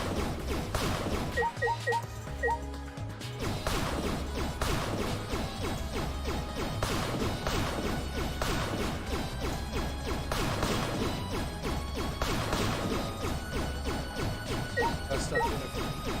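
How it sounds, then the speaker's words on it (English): Objects being smashed in the Danganronpa V3 video game: a dense, continuous run of crashing, clattering impacts with mechanical rattles, loud and steady for the whole stretch with no talking. "let's start by smashing up the things that are in the bank"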